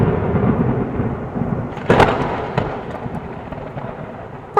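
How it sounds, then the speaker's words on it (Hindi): Sudden rain pours down steadily with a sharp, loud crack of thunder near the middle and softer rumbles around it, with no talk. "बारिश हो रही है, अचानक से बारिश कैसे शुरू हो गई?"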